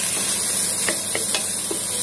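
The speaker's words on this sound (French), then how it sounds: "Et on remue pas trop énergique pour pas que ça gicle partout." A pan of chili sin carne is stirred gently, soft steady hiss of simmering with a few light spoon taps and scrapes spaced across the moment, close and moderate, no talk.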